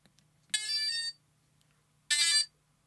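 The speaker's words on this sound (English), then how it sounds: "Always very encouraging when it beeps" Two short electronic beeps from a 7-inch long-range FPV drone's electronics powering up, each a bright harmonic tone of about half a second, separated by a pause over a faint steady hum.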